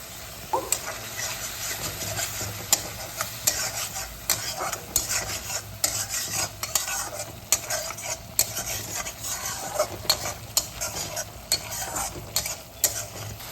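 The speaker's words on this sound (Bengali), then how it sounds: "মশলাগুলিকে ভালো করে কষিয়ে নিয়েছি এই দেখুন মশলার উপর দিকে তেলও বেশি হচ্ছে" A spice paste with red chilli powder is cooked down in oil, crackling steadily while a utensil scrapes and stirs in quick, repeated strokes throughout; nobody speaks.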